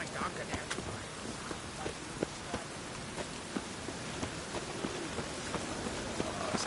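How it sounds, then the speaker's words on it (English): Steady rain hisses in the video game The Witcher 3: Wild Hunt, a constant wash of falling water dotted with soft irregular ticks and taps throughout. "Rain, I like rain."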